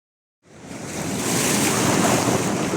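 Sea surf at the Legzira arches on the Moroccan coast swells in after a moment of silence into a broad, continuous wash of breaking waves, close and fairly loud with wind buffeting the microphone.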